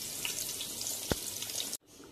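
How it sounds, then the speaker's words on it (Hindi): A medium onion fries in a pan for cumin rice pulao, giving a steady close sizzle with one brief sharp clink midway before the sound cuts off near the end. "1 मीडियम प्याज है उसको मैं फ्राई कर रही हूँ।"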